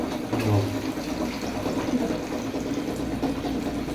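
Tap water runs steadily in a home kitchen during iftar food preparation, a continuous broadband rush that holds at an even level for the whole stretch.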